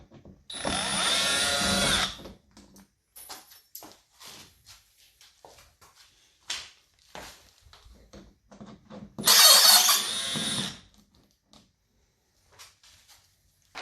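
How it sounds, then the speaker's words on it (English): Power drill with a T25 bit backing a Torx screw out of a steel Jeep YJ door, two short whirring bursts separated by pauses full of small clicks and handling clatter. "now we're gonna get the Torx out with a T25 bit"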